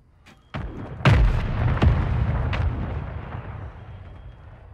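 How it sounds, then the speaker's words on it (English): Mortar rounds exploding on a rooftop in a video game: a couple of sharp cracks, then a heavy booming blast that rumbles and fades slowly, with no one speaking. "Someone's dropped a mortar on roof."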